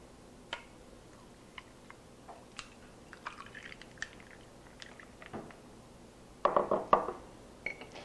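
Berry spritzer poured into a glass of ice: sparse faint ticks and clinks, then a short, louder burst of pouring liquid and ice near the end, with no talking.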